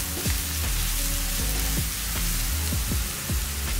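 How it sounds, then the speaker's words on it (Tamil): Onions sauté briskly in a pan for a paneer gravy, a steady dense sizzle broken by faint clinks of a spoon, close and loud with no voices. "வெங்காயம் நல்லா சிவக்க வதங்கிடணும்."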